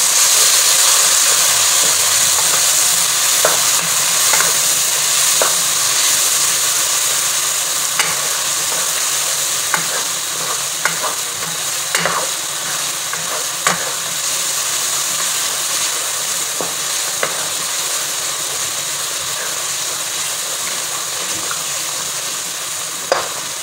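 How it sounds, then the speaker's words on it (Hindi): Mutton karahi with stock and yogurt frying in a wok, a steady loud sizzle running throughout with frequent scraping stir strokes and clinks of a spatula against the pan, no voices. "दही डाल के इसे फ्राई कर लेना है।"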